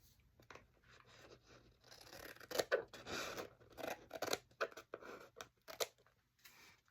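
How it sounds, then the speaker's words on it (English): Scissors trimming paper for journaling cards up close: a rapid series of crisp snipping and slicing cuts with brief pauses between them and light paper rustle, quiet overall with no speech. "Let me trim my paper here."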